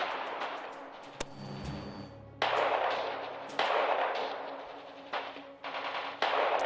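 Gunfire in the D-Day 1944 battle game Radio General: bursts of machine-gun fire and sharp single shots in irregular bursts, with a low rumble between volleys, loud and close.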